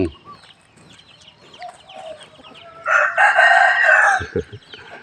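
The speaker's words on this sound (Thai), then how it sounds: "น้องไก่เยอะแยะครับไก่เล็กไก่น้อยไก่เจ็บ" A rooster crows loudly and long, with chickens clucking and scratching around it in a busy temple yard at Wat Pong Chai, Chae Hom, Lampang, Thailand.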